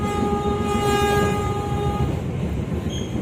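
A locomotive horn blares in one long sustained tone over the heavy rumble of the moving train, heard from a carriage behind the locomotive, then cuts off, leaving the rolling clatter.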